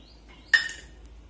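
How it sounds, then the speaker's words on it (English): A metal spoon knocks and scrapes once against a cooking pot of dal, a single bright clink followed by a brief stirring rasp in a quiet kitchen. "Give it a good stir and let it boil well."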